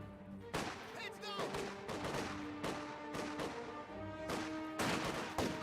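Gunfire from Company of Heroes 2 infantry combat, sniper shots among it, rings out as a series of sharp cracks and volleys over a tonal battle drone, with a commentator talking throughout.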